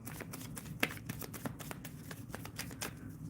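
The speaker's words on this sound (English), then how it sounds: "Shuffling for Firmino." Tarot cards being shuffled by hand in a steady run of soft riffling flicks and taps, close up and fairly quiet, with no talking over it.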